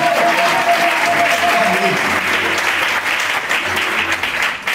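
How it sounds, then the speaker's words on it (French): A church congregation bursts into loud, sustained applause and cheering that fills the room throughout. "Et acclame très fort l'Éternel aujourd'hui."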